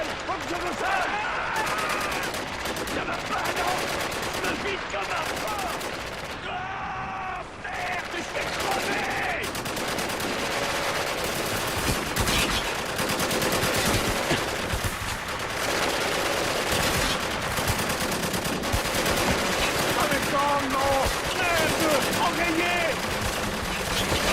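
Rapid video game gunfire with repeated shots, loud and continuous throughout a tense stealth shootout, mixed with game music and effects while players talk over it.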